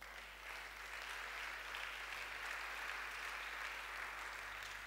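Church congregation at an Easter Sunday service applauding, a steady faint wash of clapping that rises after a short quiet start and holds evenly.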